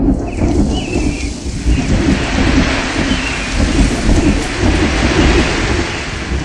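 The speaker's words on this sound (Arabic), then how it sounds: "زي ما حضراتكم سمعتم صوت البرق والرعد ظهر الأول، وبعد كده البحر، وبعد كده بدأت العصافير" Thunder rumbles over steady heavy rain and wind in a layered storm sound effect, loud and continuous, with no voices.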